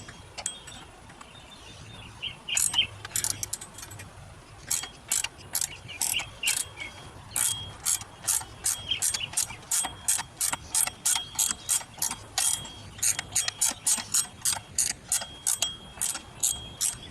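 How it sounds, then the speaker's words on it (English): A pulley puller working on the belt pulley of a Pontiac G8 V6 engine gives rapid ratcheting clicks in steady bursts, close and fairly quiet, repeated many times with brief pauses between runs. "I'm going to go ahead and take my pulley puller, get the pulley out of the way"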